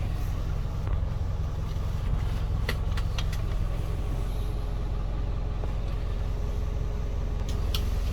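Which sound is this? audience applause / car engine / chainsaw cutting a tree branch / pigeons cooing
car engine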